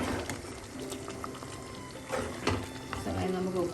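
Nadan chicken mappas curry bubbles and simmers in a pot, a steady close wet burble with a few louder pops and stirring sounds toward the end.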